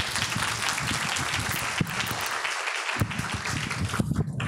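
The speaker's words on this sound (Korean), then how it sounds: "우리에게 귀한 강의를 해주신 이재용 대표님께 다시 한번 박수를 드리겠습니다" An audience at a parent education lecture claps steadily in thick, continuous applause, loud and near, with no speech over it.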